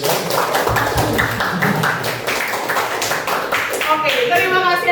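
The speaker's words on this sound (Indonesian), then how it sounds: "Tepuk tangan untuk kelas 9." Ninth-grade class clapping together in a classroom, a burst of dense, rapid applause with voices mixed in and over it, close and loud.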